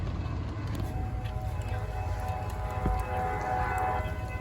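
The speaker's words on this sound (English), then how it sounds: "I hear a wild train" A train passing, a continuous low rumble with a sustained tonal horn-like hum that stays steady and fairly distant throughout, with no talking.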